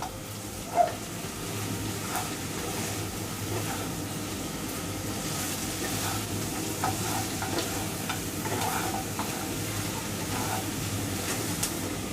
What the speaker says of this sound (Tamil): இப்போ காலிஃப்ளவரை நல்லா மிக்ஸ் பண்ணி விட்டுருங்க.